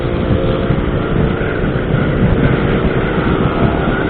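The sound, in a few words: motorcycles racing on a bypass road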